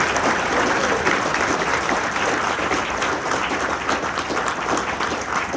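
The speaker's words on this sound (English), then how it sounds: "Can we give one more round of applause for our veterans?" A large audience applauds veterans at a military salute event, loud sustained clapping filling the room from start to finish without letting up.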